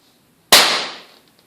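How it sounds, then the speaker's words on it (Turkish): A homemade air pistol fires at a target, heard as one sharp, loud pop followed by a fading hiss of about three quarters of a second, with no talk. "hızla saçma atacağım."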